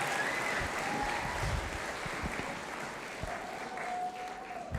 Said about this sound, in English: Let's have one more round of applause for Mr. Mango and the 5th and 6th grade band